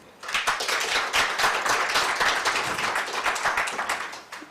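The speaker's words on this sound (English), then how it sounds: "Can we first applaud the three presenters?" A conference audience applauds the three presenters, with clapping starting sharply and holding at a steady, lively level for a few seconds before tapering off at the end.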